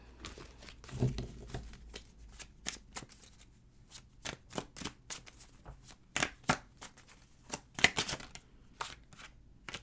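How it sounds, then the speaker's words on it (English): A deck of chakra oracle cards shuffled by hand, close and soft, with rapid papery riffles and snaps in uneven bursts and no talking over it. "Let's go ahead and pull some chakra cards for you guys and close out your reading."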